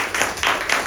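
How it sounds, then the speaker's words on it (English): Audience clapping at a Toastmasters club meeting, a short burst of applause from a small group that swells in uneven waves, fairly close and without speech. "give a round of applause."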